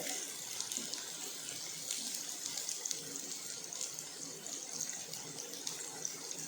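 Soaked soya chunks are squeezed by hand, releasing a steady, soft trickle and splash of water, close up, continuous and fairly quiet.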